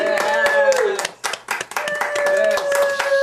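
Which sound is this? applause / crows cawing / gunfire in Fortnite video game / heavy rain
applause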